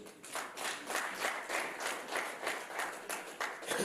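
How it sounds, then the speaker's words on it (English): Clapping from an audience at a public hearing, a rhythmic, evenly pulsed run of hand claps heard fairly close and without talk. "I like the clapping because it's coming from the executive"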